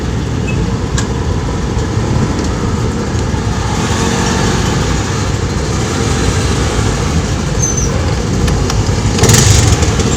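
A steady, loud, low rumble of idling car engines in a traffic jam fills the scene without a break, with a faint whine near the end.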